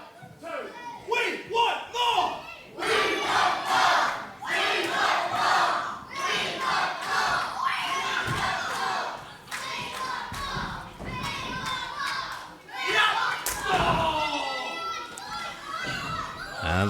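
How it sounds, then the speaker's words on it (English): Crowd noise at a British wrestling match in Shoeburyness, near Southend: spectators cheer and shout throughout, with loud swells and a few thuds, while a commentator talks over it. "They're cheering for Ollie, they're clapping for Kieron"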